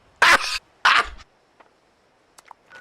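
A dog in the video game Fallout 76 gives two sharp, close barks in quick succession, followed by a few faint, scattered small sounds and then near silence.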